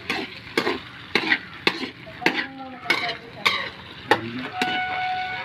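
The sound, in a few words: stirring menudo in a pan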